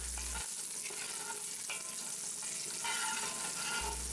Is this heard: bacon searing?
yes